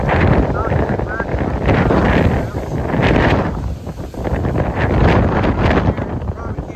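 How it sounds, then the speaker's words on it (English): Loud, gusting wind on the Appalachian Trail in Virginia buffets the microphone in rough, roaring waves throughout, rising and falling without a break. "It is windy today."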